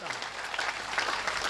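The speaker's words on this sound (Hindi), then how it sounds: "बस एक बार मेरा मन रखने के लिए तालियां बजा दीजिए" Audience applause at a Hindi comedy and romantic poetry recital, a dense wash of clapping that carries on steadily through the moment with no pause.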